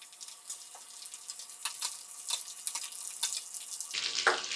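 Chopped onion sizzles and crackles in a pan with capsicum that has been frying for a couple of minutes, a steady close hiss dotted with sharp pops and no speech.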